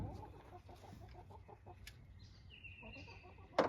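A chicken clucks in a series of short, rhythmic clucks at moderate distance, with a faint steady whistle-like tone and a sharp knock near the end.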